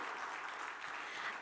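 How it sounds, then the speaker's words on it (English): Brief, quiet burst of continuous crowd applause for a government minister at a platform launch event, even and sustained with no voices. "Can we have a round of applause for Shri Dharmendra Pradhan?"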